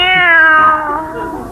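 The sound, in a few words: cat meowing, radio comedy sound effect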